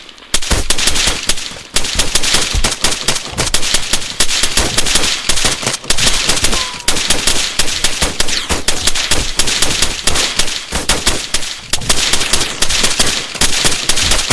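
Continuous rapid machine gun fire in the Cobra v2 video game, dense loud bursts with only brief pauses, sustained throughout.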